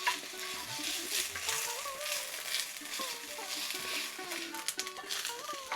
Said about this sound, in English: add in about a tablespoonful of garlic and ginger paste. Cook that for about a minute or so.